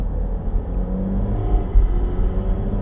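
A 2023 Porsche 718 Cayman GT4 RS engine rumbles deep and close in normal mode, its low growl and induction noise swelling a little as it pulls forward, with no voices over it.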